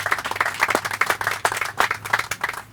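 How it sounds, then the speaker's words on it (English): A crowd claps steadily at an outdoor class of 1971 quad dedication ceremony, with dense, even applause that stays fairly close and loud throughout. "they applaud now"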